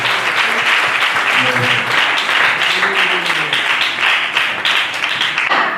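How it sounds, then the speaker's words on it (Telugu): A congregation at a night fasting prayer meeting claps together, a loud, dense roar of applause close by that carries on throughout, with a few voices calling out underneath. "చప్పట్లు కొట్టి దేవుని దర్శనం ఆహ్వానిద్దాం."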